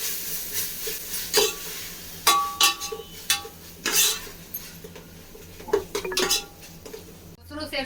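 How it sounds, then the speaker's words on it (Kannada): A spoon stirs mutton biryani masala with chopped tomato in a metal pan, giving irregular clinks, scrapes and knocks of metal on metal, close by, with a soft hiss underneath. "ಎಲ್ಲನೂ ಚೆನ್ನಾಗಿ ಮಿಕ್ಸ್ ಮಾಡೋಣ."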